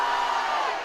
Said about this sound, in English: And the crowd is fired up.